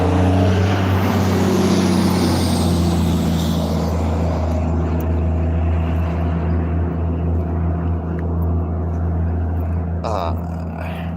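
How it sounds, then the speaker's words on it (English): A truck drives past on a road during a walk near a gas station, a loud steady engine rumble with a brief hiss-like burst near the end, under continuous traffic noise. "That's a nice truck."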